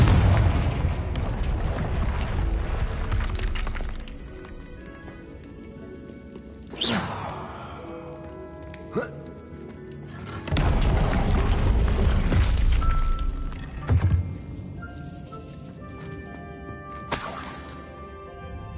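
Confringo blasting curse in Hogwarts Legacy: several booming fiery explosions burst over a rumbling game backdrop, a heavy blast opening the passage and sharper cracks following at intervals, loud and close.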